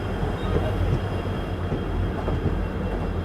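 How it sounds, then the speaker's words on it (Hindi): A train hauled by twin diesel locomotives passes close with a steady, heavy rumble and rolling wheel noise that holds evenly throughout. "ट्विन डीजल लोकोमोटिव के साथ"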